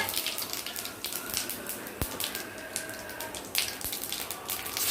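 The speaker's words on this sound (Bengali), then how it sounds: "এই যে গোটা শুকনো লঙ্কা আর জিরে তেলের মধ্যে ফোড়ন দেব।" Whole dried chillies and cumin seeds temper in hot oil, a soft, crackly sizzle with scattered sharp pops and clicks, close but fairly quiet.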